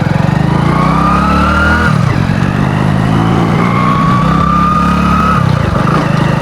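A motorcycle engine runs steadily and loudly right after starting, with a rough low throb and rising and falling revs, close to the microphone with no talking.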